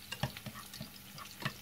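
Garlic, shallots and onions fry in oil in a saucepan over low heat, giving a soft, steady sizzle with a few light stirring clicks and scrapes near the start and end.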